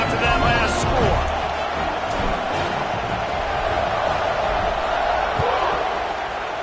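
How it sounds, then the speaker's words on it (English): A stadium crowd at a college football game roars and murmurs in a broad steady wash after a score, with scattered shouts and thuds, heard under a play-by-play announcer talking. "this crowd is buzzing after that last score"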